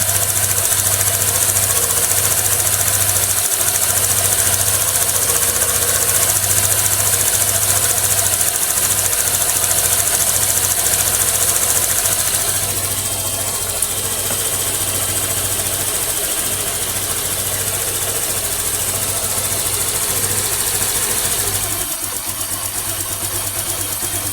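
Steady engine idle from a car after its throttle body was cleaned, a continuous mid-range drone with a slight dip in level partway through, recorded close and running for the full stretch without any speech over it.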